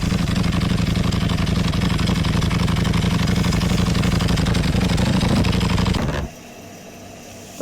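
A motorcycle, a Ducati, idles steadily at close range while being parked, its low engine rumble holding for about six seconds before cutting off into near silence.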